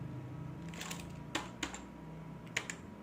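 Keys tapped on a computer keyboard to search for an app, a few sparse clicks in quick succession, close and fairly quiet with no talking.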